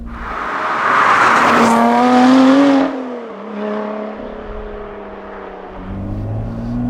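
A Lotus Exige Cup 430 engine and exhaust rev hard and loud close by, climbing in pitch for about two seconds, then dropping off and settling into lower throbbing revs and idle.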